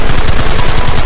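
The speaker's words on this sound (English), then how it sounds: "Fire at will!" Rifles fire in Red Dead Redemption as a dense, continuous roar of rapid, overlapping shots, very loud and close, with no talk over it.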